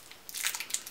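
Crinkly plastic wrapping on Halloween candy being torn open by hand without scissors, a quick run of close, sharp crackling and ripping bursts after a brief quiet start.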